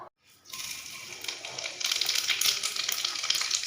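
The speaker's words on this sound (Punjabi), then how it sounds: "ਇਧਰ ਸਾਡਾ ਆਇਲ ਗਰਮ ਹੋ ਚੁੱਕਾ ਤਾਂ ਸਭ ਤੋਂ ਪਹਿਲਾਂ ਆਪਾਂ ਪਾਵਾਂਗੇ ਜੀਰਾ" Cumin seeds hit hot oil in a pan for aloo methi and burst into a steady, close sizzling hiss that rises and grows denser after a brief quiet start, with no talking.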